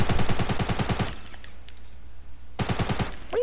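Two rapid bursts of evenly spaced gunshots from a video game weapon, loud and close, separated by a brief quiet gap with faint background sound.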